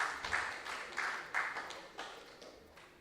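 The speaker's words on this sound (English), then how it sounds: "Let's give a round of applause to our contestants." Faint audience applause for contestants at a junior science and maths quiz, soft pulsing claps in a hall that taper off over a few seconds.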